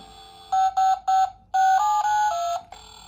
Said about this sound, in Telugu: ఇది నోకియా సౌండ్ కదా